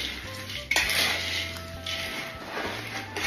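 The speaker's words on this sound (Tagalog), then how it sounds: "Haluin po muna natin para mag-even po yung ano niya." A utensil stirs peanuts in a pan to spread them evenly while making peanuts to sell. Close scraping and clinking against the pan carries on steadily.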